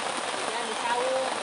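Light rain patters on a palm-sugar hut in a rural village at Matenggeng, a steady soft drumming of drops with a voice faintly present.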